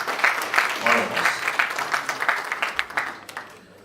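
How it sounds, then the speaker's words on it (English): Clapping from attendees at an annual general meeting of a Lagos professional association, irregular claps running under someone talking and fading toward the end. "I think a round of applause is there for all of us."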